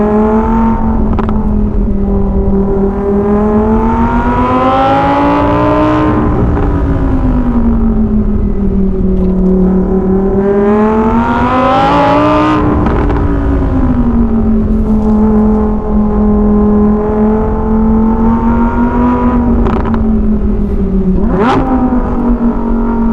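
Lamborghini Huracan EVO RWD Spyder being driven hard, its loud engine wail rising and falling through repeated revs and gear changes for the whole stretch, heard from inside the open car with no talking.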